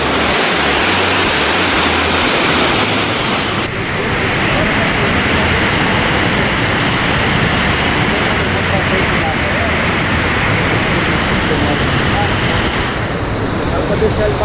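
Continuous loud roar of the Cachoeira do Mutum waterfall in Bonito, Brazil, broad and steady, briefly harsher at the start before settling into an even rush.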